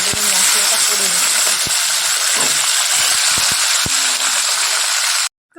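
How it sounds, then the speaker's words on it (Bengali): Tilapia fish frying in hot oil in a wok, a loud, steady, close sizzling hiss with a few sharp pops and clinks, continuing for several seconds before cutting off. "তেল গরম হয়ে গেছে, মাছগুলো দিয়ে দেবো।"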